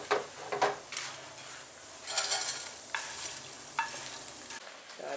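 Bread frying in hot oil over moderate heat in a home kitchen: a soft continuous sizzle broken by a few brief scraping stirs, close and moderately loud, no talk.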